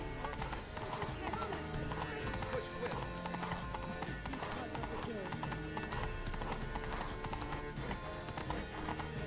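In The Witcher 3, horse hooves beat in a quick galloping rhythm under a music score, with a whinny and a voice over the steady clatter.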